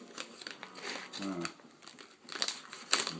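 Vacuum-sealed pipe tobacco packaging being opened, producing bursts of plastic crinkling and crumpling that come and go, loud and close, with a brief voiced murmur partway through.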